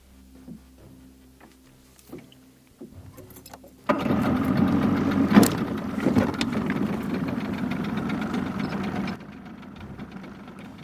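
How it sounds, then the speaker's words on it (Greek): A boat engine on a small fishing boat cranks into life after quiet, then runs at a steady, fairly loud idle for several seconds before dropping away. "Έβαλα μπροστά τη μηχανή για να αλλάξω θέση στην αρματοσιά μου."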